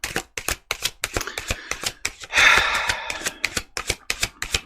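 Tarot cards are shuffled in rapid irregular riffles and slaps, crisp and close, with a brief denser rustling burst in the middle.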